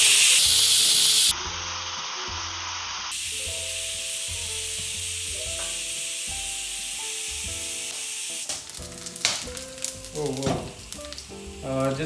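Spices sizzle and fry in a pot turned down to low heat for Parsi dhansak, a steady close hiss that starts loud, then settles, with stirring scrapes and clatter building near the end.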